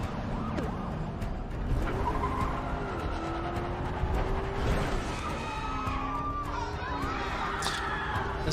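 Car chase in The Last of Us TV episode, with engine roar and swelling, sweeping siren-like tones over dense rumble and scattered impacts, steady and loud throughout, with faint voices underneath.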